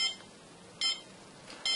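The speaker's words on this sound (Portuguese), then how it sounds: "Retirando o sensor de umidade do pote, o alarme de solo seco será disparado." Arduino irrigation system dry-soil alarm sounds three short, faint electronic beeps at an even pace, with quiet hiss between them.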